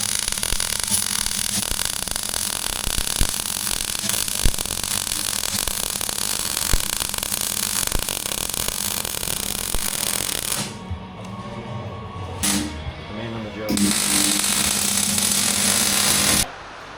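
Welding on a steel exo cage in a workshop, a continuous harsh buzzing crackle running loud and close for about ten seconds, then breaking into shorter bursts with pauses between them.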